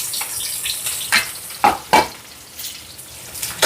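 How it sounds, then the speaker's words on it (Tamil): Shallots, green chillies and curry leaves frying in hot coconut oil for crab kottu: a steady, loud sizzle with brief crackling pops and stir scrapes, close up, with no talk. "இப்போ இதெல்லாம் நல்லா வதங்கட்டும்."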